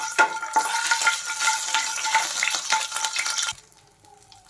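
Bitter gourd stir-frying with ginger garlic paste in a pan, a steady loud sizzle with scraping stir strokes for most of the clip, then cutting off to a faint low hiss near the end.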